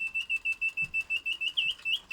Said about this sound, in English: Tiny little mechanism with the whistle, the bellows, everything.